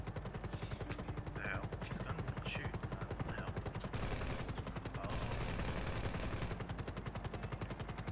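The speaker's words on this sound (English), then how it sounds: "Please don't shoot while we're in midair." Continuous rapid gunfire in GTA Online, a dense, fast, steady rattle running the full length under a loud engine or rotor drone, with brief higher noise bursts layered on top.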